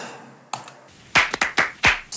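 Clap loop sample from a beat: a few sharp, bright claps in a loose syncopated pattern, loud and close, with a quieter tick early on and no voices.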